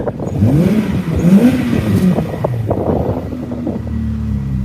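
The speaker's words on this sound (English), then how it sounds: "I've got a Vauxhall Zafira GSI, which is all tuned up, 350 brake horsepower" A tuned 350-horsepower Vauxhall Zafira GSI engine with twin stainless exhausts revs hard, its pitch climbing and dropping in loud surges, then settles into a deep, steady idle rumble.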